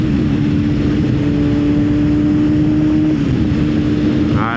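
A 600cc motorcycle engine drones loud and close under steady riding, with rushing wind and a sustained tone that holds and then dips slightly as it shifts up toward sixth gear.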